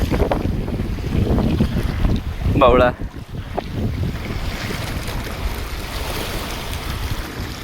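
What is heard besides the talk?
boat on the sea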